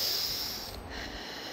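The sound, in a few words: deep breathing, inhaling through nose, exhaling through mouth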